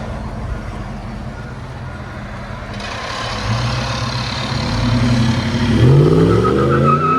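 2017 RAM 1500 pickup with a 5.7L HEMI V8 and Flowmaster Flow FX dual exhaust, idling with a deep rumble before revving up loudly near the end, close and alone.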